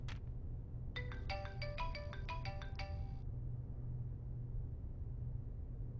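A bright electronic phone ringtone plays a quick melodic pattern for about two seconds over a steady low rumble, then stops.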